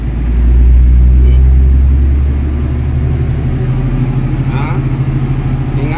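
A Shantui bulldozer's diesel engine rumbles loud and steady, swelling in the first seconds as it shifts into first gear, then settling into a pulsing low drone throughout.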